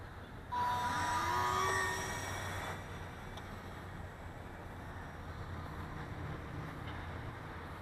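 An Air Hogs Jetpack Hero toy flies with a steady, high-pitched motor whine. It rises in pitch and loudness early on, then settles into a continuous hum against a constant background hiss.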